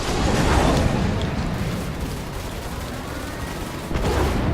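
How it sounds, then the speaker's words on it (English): An Origin 300i touring ship in Star Citizen fires missiles, producing a continuous roaring, booming barrage of launches and blasts, loud and dense throughout with a fresh surge near the end. "Now then, I'm just gonna start using the missiles."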